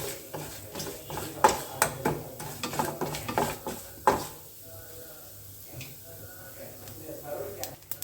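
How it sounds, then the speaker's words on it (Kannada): Lentils are stirred as they roast in a pan until golden brown, with irregular spoon scrapes and clinks against the metal under a person's talking. "ಬೇಳೆಗಳೆಲ್ಲ ಗೋಲ್ಡನ್ ಬ್ರೌನ್ ಆಗಬೇಕು ಅಲ್ಲಿವರೆಗೆ ಹುರ್ಕೋಬೇಕು"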